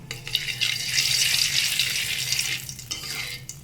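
Washed, cut pumpkin hits hot oil tempered with cumin in a pan, bursting into a loud, bright sizzle that stays steady, then eases slightly, close and without talk.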